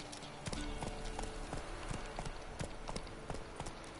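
Horse hooves gallop in The Witcher 3 video game, a steady, rhythmic clip-clop of quick beats that continues throughout at moderate loudness with no talking.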